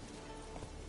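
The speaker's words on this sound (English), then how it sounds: "Run, Roach" Hooves of the horse Roach clip-clop at a run in the Witcher 3 video game, a quick, muffled, even beat under dense game ambience.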